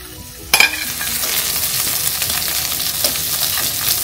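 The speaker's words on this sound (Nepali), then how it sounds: "अब चाहिँ म ससेस लगाउँछु यहाँ। यसलाई एकछिन फ्राई गर्नुपर्छ।" Sausages frying in a pan, a loud, crackling sizzle that bursts in with a sharp clatter and then carries on steadily and close, with no talking.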